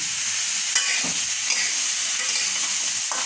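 Potato curry (aloo dum) with turmeric being stirred in a pan, giving a steady sizzling hiss with a few soft scrapes of the spoon, close and even throughout with no talking.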